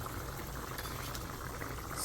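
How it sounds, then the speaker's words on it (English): Picadillo boils gently in a pot, giving a steady, close bubbling and hissing simmer that runs without a break and without any voices. "my picadillo here is still boiling in there, nice and easy"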